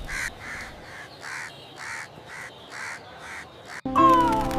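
Crows cawing about eight times in a steady rhythm while snatching samosas, loud and close, before a voice begins speaking at the very end.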